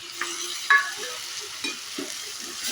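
Tomatoes and vegetables frying in a pan for hotel-style khara bath, with a soft steady sizzle and a few scattered clinks and scrapes from stirring.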